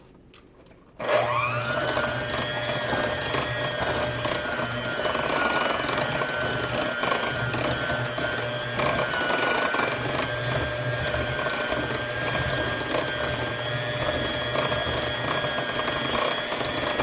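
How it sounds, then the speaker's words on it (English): A hand mixer whirs at a steady, loud, close pitch as it mixes sugar-free candy made with coconut oil, starting abruptly and running continuously with no talk. "I'm going to use my hand mixer."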